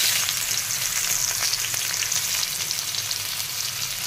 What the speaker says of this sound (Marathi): तर तेल तर गरम झाले, तर सगळ्यात पहिल्यांदा आपण घालून घेतो त्याच्यामध्ये कांदा।